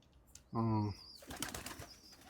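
One clear, close pigeon coo rises from a healthy backyard flock, with soft rustling and faint voices after it.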